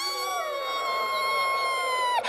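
A voice imitates a baby bear's teeny little growl as a thin, high, sustained whine that holds steady, slowly sinks in pitch and ends with a quick squeak, loud and close.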